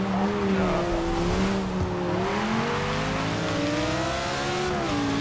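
A Hummer in Forza Motorsport 6 on the Top Gear test track, its engine droning steadily while tires squeal through a wet spin-out, continuous and loud throughout.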